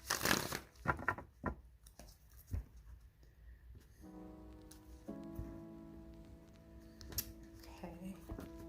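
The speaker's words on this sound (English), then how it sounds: "shuffle." Riffle shuffles of playing cards, several quick ruffling bursts at close range, followed by a quieter shuffle with a faint steady tone underneath.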